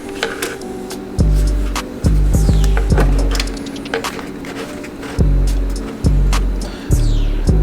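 A Techsew 5100-SE sewing machine stitches 37oz waxed canvas in short bursts, each run a loud rapid mechanical thumping that stops and restarts several times, with small clicks and rustles between runs and no speech.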